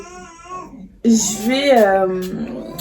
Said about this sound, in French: Je suis désolée si vous entendez un peu la télé et le bébé au salon